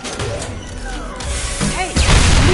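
Fuel tanks blowing up in the video game Mass Effect 2, a loud burst of explosion noise that swells near the end and mixes with game effects and rumble.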